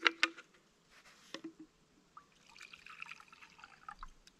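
Strawberry drink flavouring squirted from a packet into a water bottle at a camp lunch on a solo canoe trip: a few sharp squirts and drips, then a longer stretch of trickling, gurgling liquid, close and alone.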